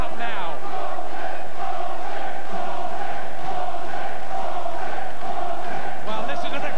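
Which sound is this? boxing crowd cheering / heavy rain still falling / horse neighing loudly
boxing crowd cheering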